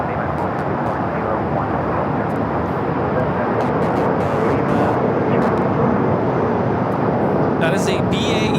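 A BAE 125-800A business jet at Los Angeles International Airport makes a loud, steady engine roar that holds at the same level throughout without fading.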